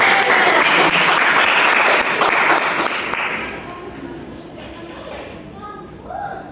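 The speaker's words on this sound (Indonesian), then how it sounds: "Kasih tepuk tangan." Classroom applause from pupils, a burst of many hands clapping together that fades out after about three seconds, followed by quieter room noise and a few faint voices.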